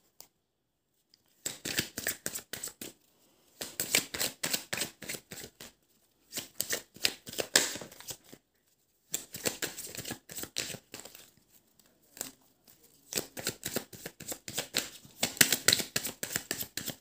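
Playing cards are shuffled and laid out on a table in several quick crisp bursts separated by short silences, close by and with no talking.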